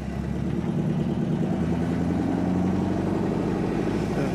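A 1963 Chevrolet Impala SS engine runs rough and struggles, as if it does not want to keep going, a steady loud low rumble with an uneven pulsing throughout and no voices.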